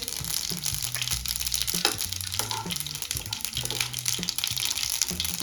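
Mustard seeds and cumin crackle and splutter in hot oil in a kadhai, giving a steady sizzle with sharp irregular pops, while low background tones hum beneath.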